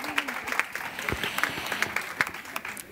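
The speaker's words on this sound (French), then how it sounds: "Est-ce qu'on peut les applaudir?" Audience applause at a church talk-show event, a moderate burst of clapping with distinct individual claps, fairly close and lively, without speech over it.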